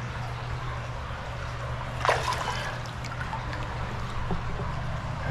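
Water trickles and drains steadily out of a small hole, a continuous close liquid wash under a low hum, with a brief splashy surge partway through and no talking.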